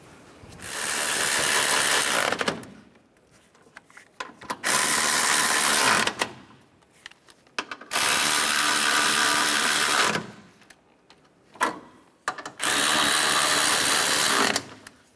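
A power ratchet tightens the radiator bracket bolts on a 2011-2015 Chevy Cruze, sending out four long, loud, close bursts of rattling mechanical whir, each lasting about two seconds, with quiet gaps and faint clinks between them.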